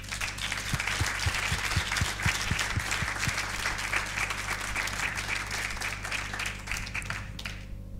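Steady audience applause at a digital innovation awards ceremony as a prize-winning team is called to the stage, moderately loud and continuous, with a low hum and a few brief thuds early on.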